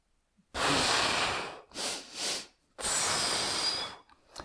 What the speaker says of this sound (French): J'inspire puissamment par le nez en 2 fois